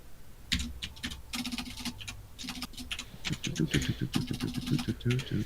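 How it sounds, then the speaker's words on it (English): Furious typing on a clunky Corsair mechanical computer keyboard, rapid irregular clacks close to the microphone, rising into a dense burst toward the end, with quiet talk underneath. "I love the furious keyboard noises"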